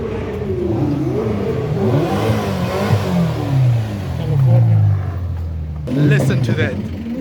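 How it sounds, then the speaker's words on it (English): A Porsche GT3 revs hard at an outdoor car meet, its engine sweeping up and down through several loud, close blips and sustained pulls, with a second sharp rev near the end. "That GT3 though. Listen to that thing."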